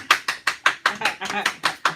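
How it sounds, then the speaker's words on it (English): A small group claps on a morning radio show, slow, separate, evenly spaced claps, about ten in two seconds, close and moderately loud, with some voices mixed in toward the middle. "Come on, let's clap."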